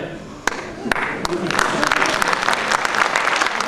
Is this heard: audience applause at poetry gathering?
yes